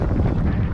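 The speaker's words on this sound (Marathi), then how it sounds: "कसलं खतरनाक वार सुटलं हा" Strong wind buffets the microphone outdoors in the Konkan countryside, a dense, continuous low rumble that stays loud and steady throughout, with no voices.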